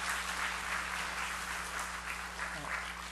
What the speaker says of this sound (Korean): 우리 분이엘 성가대를 위해서 다시 한번 큰 박수를 부탁드립니다